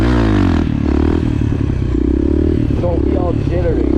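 A motorcycle engine revving and accelerating as the rider pulls a wheelie, a loud, rough, throbbing engine note close by, with someone talking over it.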